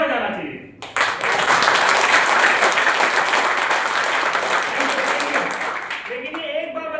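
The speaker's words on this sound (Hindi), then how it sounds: "हम अपने लिए ताली बजाते हैं" A seminar hall audience bursts into loud, sustained clapping after a brief spoken line, the dense applause holding steady and tapering slightly at the end.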